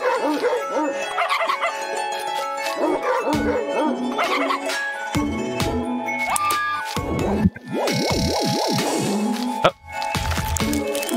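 A dog yips, whimpers and barks in a rapid, close, loud series of excited vocalizations with howl-like pitch swoops, continuing over about eleven seconds alongside other noise, with brief gaps.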